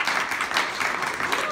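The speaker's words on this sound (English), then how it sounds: "How about a round of applause for Tim?" A live radio studio audience gives brief, dense, steady applause for an Eagle Scout guest, a short burst of clapping with some voices mixed in.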